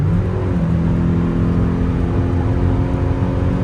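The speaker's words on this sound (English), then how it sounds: "Do a downshift." A 1987 Toyota MR2 engine runs through a downshift, a loud, steady mid-pitched drone from inside the car whose pitch shifts early on, then holds with no talking.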